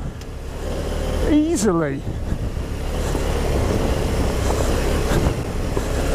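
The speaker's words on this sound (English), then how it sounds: "What a fantastic bike to be able to do this sort of terrain on" KTM 790 Adventure R motorcycle ridden over loose, gnarly off-road terrain, its engine a continuous rough drone close to the mic, with a short burst of the rider's voice near the start.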